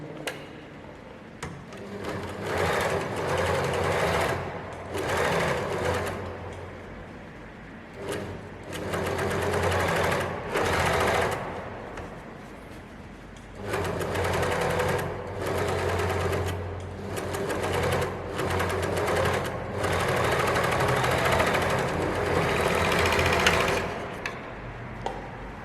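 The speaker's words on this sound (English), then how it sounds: "we will overlock the curved line" An overlocker stitches the curved center-front crotch seam of a pair of pants in several loud, close bursts of rapid machine whirring, separated by brief pauses.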